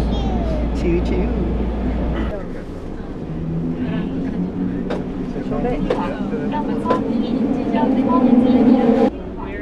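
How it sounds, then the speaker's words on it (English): A steady low rumble of a moving train in Tokyo fills the clip, with rattles and clicks, and voices talking over it. "In the train. Choo choo."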